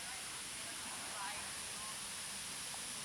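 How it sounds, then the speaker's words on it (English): A steady, broad rush of falling water roars evenly throughout, like a waterfall heard from nearby, at a waterfall near Luwuk, Sulawesi. "and we made it to the main waterfall."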